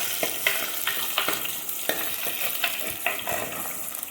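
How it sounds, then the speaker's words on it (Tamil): Shallots and green chillies sauté in hot oil for a prawn curry, giving a loud, continuous close sizzle broken by repeated scrapes and stirs of a spoon in the pan. "சின்ன வெங்காயம் ஒரு பத்து வெங்காயம் அரிஞ்சு வச்சுருக்கேங்க அதையும் போட்டுக்கலாம் ரெண்டு பச்சை மிளகா போட்டுக்கலாங்க போட்டு நல்லா வதக்கி விட்டுக்கலாம்"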